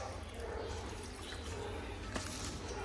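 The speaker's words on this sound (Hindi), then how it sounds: "प्लांट को पानी देने की बारी भी आ गई है" Water poured onto a small money plant, a steady liquid trickle and splash heard close up under a constant background hum, with no talking.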